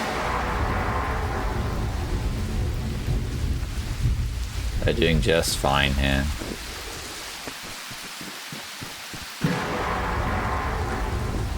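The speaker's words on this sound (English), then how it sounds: "The thunder though is violent. Violent thunder." Heavy rain hisses steadily in a survival video game, a deep rumble of thunder rolling through mid-way before the downpour resumes, with someone talking over the storm.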